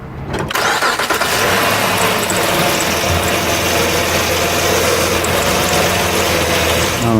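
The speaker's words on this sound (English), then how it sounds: "run the system while turning the steering wheel left to right about 10 times" A Honda or Acura engine cranks and starts, then runs loud and steady at a fast idle while the steering wheel is turned lock to lock after a power steering pump replacement, with no talking.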